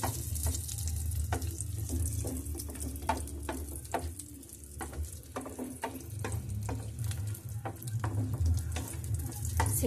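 Chopped almonds and cashews fry in hot ghee in a pan, giving a steady close sizzle broken by frequent small crackles and stirring scrapes for the whole stretch.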